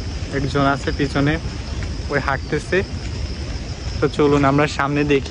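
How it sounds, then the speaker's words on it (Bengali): Crickets chirp in a steady high drone through a quiet, empty rural area after rain, continuing under someone talking as he walks. "চারপাশে ঝিঝি পোকার ডাক"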